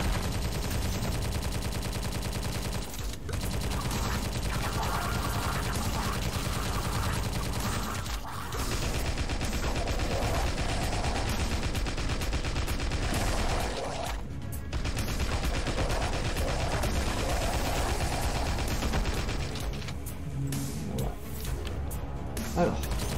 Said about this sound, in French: le Tommy Gun en tir rapide,